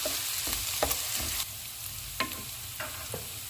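Garlic sizzles in hot oil in a pan, a steady crackling hiss broken by several sharp stirring scrapes and clicks at irregular intervals, close and without voices.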